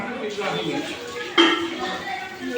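Plates and dishes clink as food is served and set out in a mosque hall for an iftar gathering, with busy room noise, a sharper clatter midway, and people talking under it.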